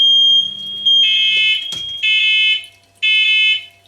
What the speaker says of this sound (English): This essentially sends a low signal out to my in-house fire alarm system